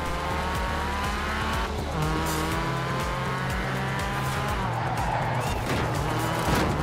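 A widebody Ford Focus RS races in Forza Horizon 4, its engine roaring and shifting through gears with tires squealing on corners, loud and continuous for the whole stretch.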